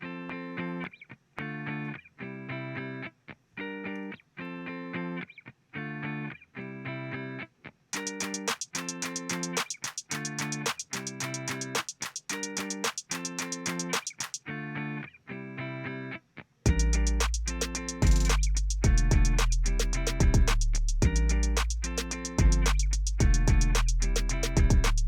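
A looping electronic beat with a distorted, chopped guitar riff repeating in steady bars, joined partway through by heavier drums and deep bass.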